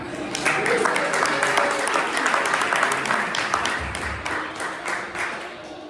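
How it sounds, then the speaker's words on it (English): Audience applause at a Beer City Cup event before a football chant, a steady wash of clapping from a crowd that swells and holds for several seconds, with voices mixed in. "Let's give them a big round of applause."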